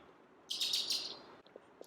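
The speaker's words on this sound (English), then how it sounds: "Bird." A bird chirps outdoors near a garden planter on a cold fall day: a quick burst of bright, close chirps lasting under a second, then quiet background.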